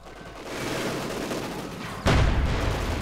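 Panzer IV tank fire in a Company of Heroes 2 match, set within a dense, continuous battle din of gunfire and explosions that swells into a loud heavy blast about two-thirds through, with no speech.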